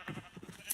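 Minecraft sheep bleats, two or three brief calls in quick succession over a low background, no voices.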